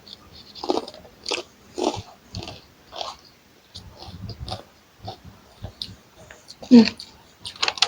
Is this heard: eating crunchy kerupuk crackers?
yes